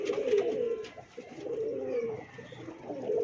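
A pair of pet pigeons cooing softly in repeated low, throaty phrases, close by, with a few faint chirps in the background.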